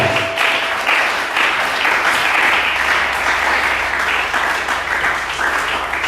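A church congregation breaks into sustained, dense applause, many hands clapping together at an even, loud level throughout, with no voices rising above it.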